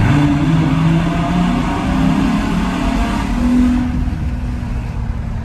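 A Ferrari Mansory rated at 775 hp revs hard inside a tunnel with a window open, its loud, booming engine note rising and holding steadily for several seconds before easing slightly at the end.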